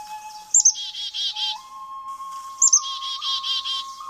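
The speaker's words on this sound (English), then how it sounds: "It's the black-capped chickadee." A black-capped chickadee calls twice, each a bright, close call opening with a high note and followed by a run of buzzy, rasping notes, alone against a steady faint background tone.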